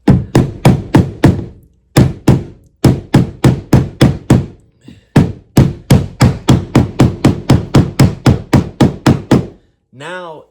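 A rubber hammer strikes Bonafide SS rudder kit hardware with rapid, loud, close blows in quick bursts of several hits, with short pauses between bursts and a brief whirring or vocal sound at the end.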